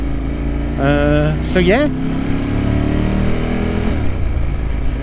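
A Ducati 916 motorcycle with a dry clutch, its engine ticking over with a clattery rattle before a sharp rev that rises and falls, close by, while someone talks over it.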